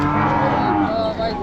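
A calf at a village cattle market gives a single loud, drawn-out moo close by, filling the whole moment with a low, steady bellow.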